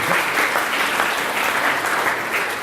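Loud, dense applause fills an award ceremony hall at SAPSA 2018 as a Lifetime Achievement Award winner is honored. Many hands clap at once in a continuous roar with no pauses and no voices.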